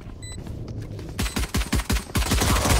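Shotgun fire in the video game Valorant, several loud, sharp blasts in quick succession with heavy low-end punch after a brief quieter stretch, close and dominant with no talk.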